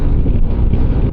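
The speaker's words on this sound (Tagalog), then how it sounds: "Sobrang lakas ng hangin ngayon, kaya lalong nanunuot yung lamig." Strong wind on a mountain buffets the microphone in a continuous, heavy roar with no pauses.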